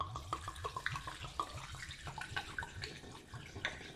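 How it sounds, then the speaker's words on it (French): Rum pours into a carafe of wild figs, a quiet steady liquid trickle with small splashy glugs and drips, close and soft, no talking. "Je vais remplir le rhum."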